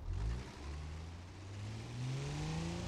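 A BMW 3 Series in BeamNG Drive pulls away gently, its engine note rising smoothly as it accelerates from a low idle, close and steady with no talk.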